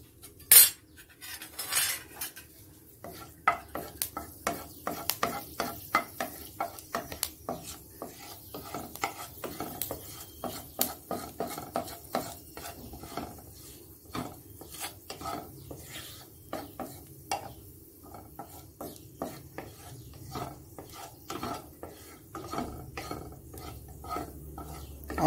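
Fenugreek seeds fry in hot oil in a wok, with a utensil scraping and stirring in a steady run of quick rasping strokes, close and fairly quiet, with no talk.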